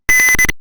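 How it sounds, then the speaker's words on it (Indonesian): A piezo buzzer on an Arduino temperature alarm in a Tinkercad circuit simulation gives one short, loud, steady electronic beep lasting about half a second, heard alone. "maka Arduino akan membaca suhu tersebut menjadi panas dan akan membuat buzzer dan LED akan menyala"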